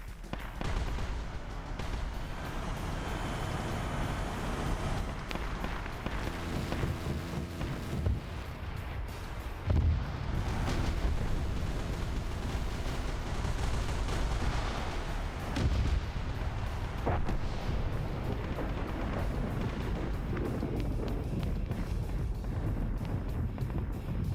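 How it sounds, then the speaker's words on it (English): Heavy cannons firing in a Warhammer 40K game, a steady roar of deep booms and rumbling blasts that continues throughout, with a louder impact around the middle. "I still hear the heavy cannons here firing."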